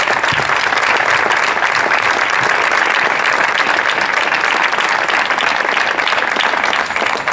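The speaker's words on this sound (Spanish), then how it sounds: "Un aplauso para él." Sustained applause from an audience at a municipal tribute event in San Sebastián de los Reyes, greeting a local tattoo artist. Dense, steady clapping fills the whole stretch at full volume without pause.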